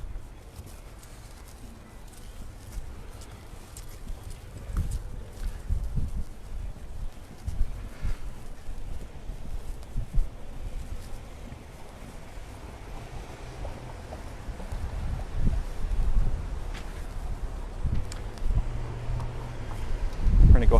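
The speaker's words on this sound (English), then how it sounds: "as soon as we get this wind to pass" Outdoor wind on a downtown street buffets a microphone as low, uneven rumbling gusts that swell and fade, rising stronger toward the end.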